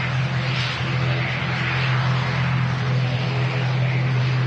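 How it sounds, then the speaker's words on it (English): TUI Boeing Dreamliner jet rolling on runway 23R for departure at Manchester Airport, a steady loud engine roar with a strong low hum, continuous and unchanging throughout. "And a TUI Dreamliner now rolling on 2-3 right for the departure."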